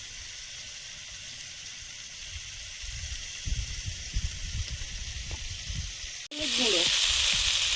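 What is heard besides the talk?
eggs frying in a pan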